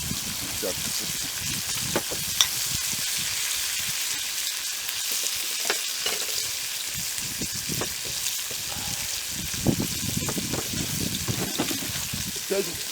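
Steady sizzling and crackling of five eggs frying in a pan, with occasional stirring clatter and brief muffled voices in the background.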